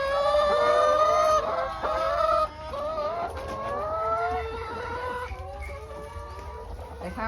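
Hens on a Thai egg farm clucking and calling over one another, with rising squawks and a rooster-like crow, near and steady against a constant background hum, with no talking.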